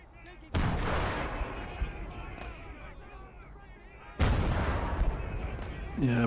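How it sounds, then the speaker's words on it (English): Rocket artillery and howitzers fire in the World War II game Gates of Hell: Ostfront during a village defence. Two loud, close blasts land a few seconds apart, each trailing off into a long rumbling, crackling barrage. "rocket artillery and howitzers are the bane of my existence on the defensive missions"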